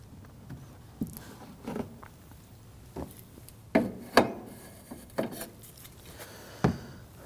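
A cloth wipes and rubs the brake fluid reservoir cover on a 2009-2017 Volvo XC60, irregular close scuffs and light knocks of plastic scattered over quiet background.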